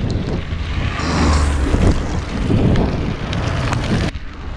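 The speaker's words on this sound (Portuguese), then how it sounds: "Hoje está dando uma chuvinha aqui em Vilhena." Light rain falls outdoors in Vilhena during a bike ride, heard as a steady broadband hiss with gusty wind buffeting the microphone, ending abruptly. No speech.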